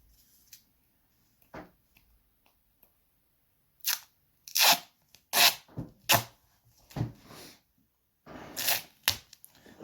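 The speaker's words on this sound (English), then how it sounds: "I'm going to put some tape around it as well" Tape being pulled and wrapped around a homemade barometer, a series of close, sharp ripping and crinkling bursts, sparse at first and then quicker and louder in irregular rhythm.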